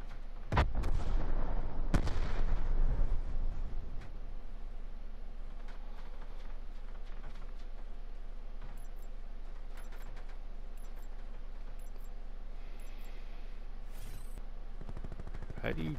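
A decoy grenade in Call of Duty Black Ops 4 Prop Hunt imitating gunfire, a loud burst of rapid shots for a few seconds, then scattered fainter pops over a steady game background.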